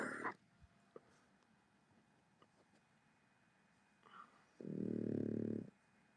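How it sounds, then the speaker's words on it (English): A dog snores once in a long, loud rumbling breath near the end, preceded by a brief nasal snort and faint shuffling in an otherwise quiet room. "I want to see who's snoring"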